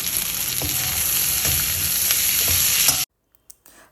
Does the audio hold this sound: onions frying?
yes